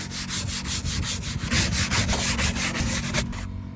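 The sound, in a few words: soft bristle brush scrubbing car detailing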